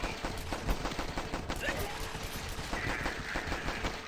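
Steady rapid gunfire in The Last Stand game, a continuous rattle of shots throughout at fairly low level, with no talk heard.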